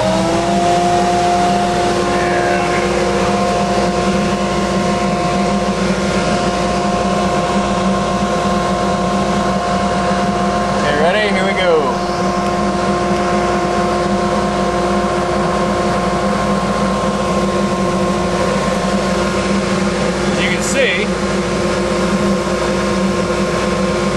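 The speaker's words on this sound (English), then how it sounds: "here's what happens when we suck up fine dust" Two-stage dust collector running while it sucks up fine sawdust, a loud constant motor and airflow roar with a steady hum throughout, close and unbroken, with a few faint scrapes partway through and no talk.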